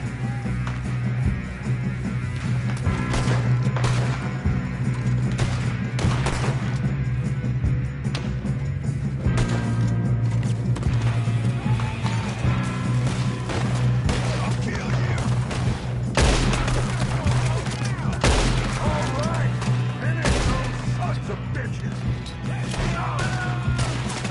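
Video game gunfire from Red Dead Redemption: repeated sharp shots and cracks in scattered bursts throughout, loud and close, over a steady low droning background.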